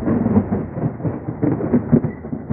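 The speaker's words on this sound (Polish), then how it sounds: "tak tędy poszedł grzmot i błyskawica" Thunder from a summer thunderstorm directly overhead, a low rolling rumble with irregular surges over a couple of seconds, heavy and muffled in the low range, with no voices.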